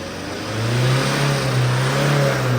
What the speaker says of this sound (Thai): เครื่องสั่นนะครับสองเร่งเร่งสะดุด